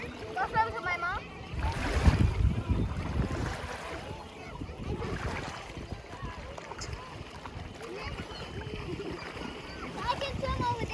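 A child swims and splashes in the sea at the beach, with continuous, moderate water sloshing and splashes under a voice and adults talking nearby.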